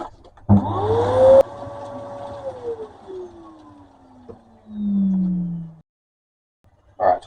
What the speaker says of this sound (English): I'll just give it a bit of a quick vacuum just to clean up the mess that's there